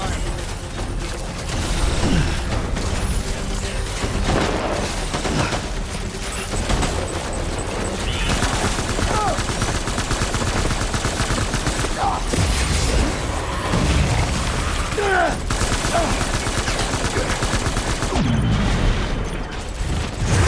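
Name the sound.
gunfire in the video game Death Stranding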